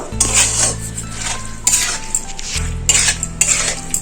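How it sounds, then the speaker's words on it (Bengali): Chicken with beans and carrots is stir-fried in a pan, a utensil scraping and clanking against the metal in repeated firm strokes over a light sizzle, close and fairly loud, with a low steady hum underneath and no speech. "সবজির সাথে চিকেন একটু কষিয়ে নেব"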